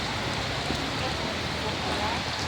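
Heavy rain falls steadily as a broad, even hiss, continuous and fairly close throughout.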